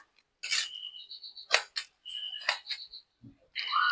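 A knife chops through banana stem on a board in a few bursts of crisp, wet cutting strokes, separated by short pauses and faint high ringing scrapes, close by with no talking.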